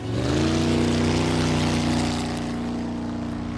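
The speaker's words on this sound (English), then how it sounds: "The actual sound of the jet boat is much lower and gravelier" A jet boat engine in a James Bond chase scene drones loud and close with a gravelly, harmonic rumble that swells, then eases slightly toward the end, with no voices.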